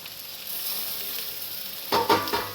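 Chopped onions and tomatoes fry in a pan with a steady soft sizzle, then a spoon stirs them with a few louder scraping clatters near the end.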